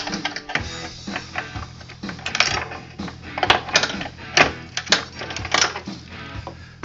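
A drive shaft is pulled out through the sprocket of a Cobra, The Rock or Nuke gas scooter. Close metallic clicks, clinks and short scraping knocks come in an uneven run, with no voices.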